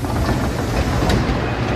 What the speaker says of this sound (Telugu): ఇట్లుంటుంది ట్రైన్ లోపల, మెట్రో ట్రైన్ ఒసాకాలో